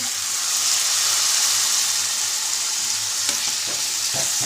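Cooking oil sizzles and hisses steadily after a splash of water goes in, a dense bright frying crackle with a few sharper pops near the end and no talking.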